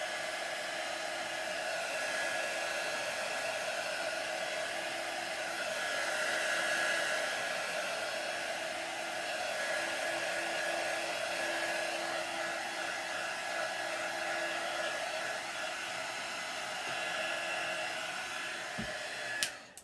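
A hair dryer blows steadily on a decorative paper gift box, a continuous close whooshing drone holding nearly level for about twenty seconds before clicking off at the very end.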